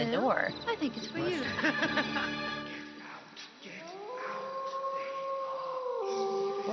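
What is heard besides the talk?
dog howling in Night Trap video game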